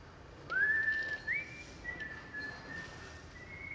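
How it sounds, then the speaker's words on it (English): A man whistles a short, bright tune, with rising sliding notes that hold and waver, heard up close against a quiet background. "I should never have whistled."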